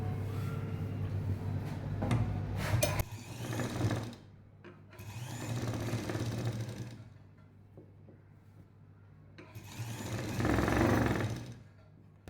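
A sewing machine runs a press stitch over the sewn neck piece of a lined jacket in several bursts of close mechanical whirring, separated by short quiet gaps, with no voices.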